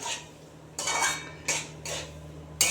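A spoon scrapes and knocks against a pan while tomato chutney with jaggery is stirred, four or five distinct clattering strokes at close range over a low steady hum, with no talking.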